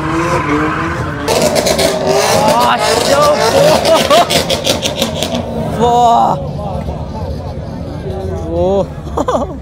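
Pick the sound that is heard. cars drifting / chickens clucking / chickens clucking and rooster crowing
cars drifting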